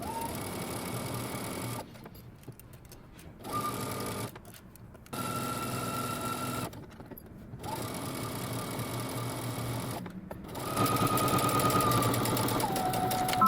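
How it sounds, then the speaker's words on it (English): A sewing machine stitches a curved dress seam in several runs, its rapid mechanical whirring starting and stopping with short pauses between bursts, close and steady, with no talking. "Now we're going to take this to the sewing machine and we're going to sew along the entire curve down to our hem."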